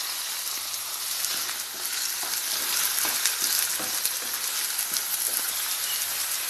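Onion and tomato with ginger and garlic frying in a pan for prawn thokku, a steady close sizzle with a few soft clicks of stirring throughout.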